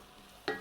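Diced onion and crushed garlic in hot oil and butter in a pan, a faint background sizzle broken by one sharp stirring scrape and a burst of crackle near the end.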